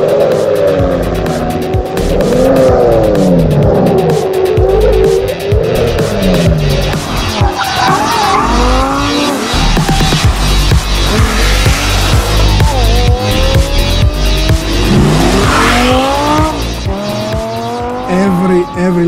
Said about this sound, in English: The sound we generate with our engine is so special, so different.